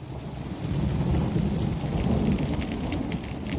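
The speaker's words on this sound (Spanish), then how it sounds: "Pero ese día llovió y la tormenta apagó las llamas." Steady heavy rain pours down with a low rolling rumble of thunder swelling beneath it, a dense continuous storm close at hand with no voices.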